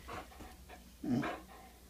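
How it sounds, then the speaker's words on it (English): A dog lets out two soft, muffled barks about a second apart, with light panting in between, heard from a little distance. "If you're barking at those other dogs"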